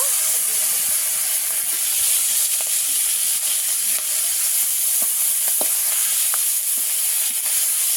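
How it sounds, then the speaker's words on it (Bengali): Shrimp coated in salt and turmeric fry in hot oil in a kadai, giving a steady, close, continuous sizzle and hiss with occasional crackling pops and no talking. "লবণ হলুদ মাখিয়ে রেখেছিলাম যে চিংড়ি মাছটা, এটাকেই ভেজে নিচ্ছি।"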